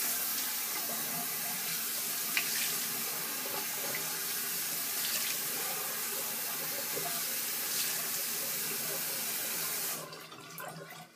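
Tap water runs steadily into a bathroom sink for a cold rinse after a double-edge shave, a continuous close splashing rush that cuts off near the end.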